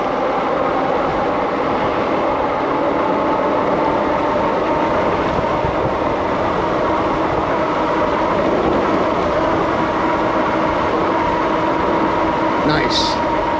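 A REVR TA9 electric mountain bike ridden at full throttle gives a steady, loud rushing roar of wind and tire noise with a faint motor whine, unbroken for the whole stretch.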